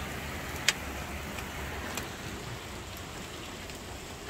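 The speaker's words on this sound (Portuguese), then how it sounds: "Olha aí, chuvarada." Steady downpour of heavy rain on a trip near Uruguay, a dense even hiss with a couple of brief sharp drips or taps, fairly close and unbroken, with no voices.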